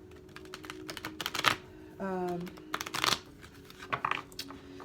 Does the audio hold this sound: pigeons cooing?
no